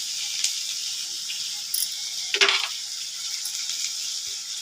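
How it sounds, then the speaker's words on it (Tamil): Andhra-style tomato pappu of dal with tomato and onion boiling in a pot, giving a steady bubbling hiss with a brief louder burst of bubbling partway through; no one talks. "நல்லா ஒரு அஞ்சு நிமிஷம் கொதிக்கணும் தக்காளியும் வெங்காயம் நல்லா பருப்பு வேகணும்"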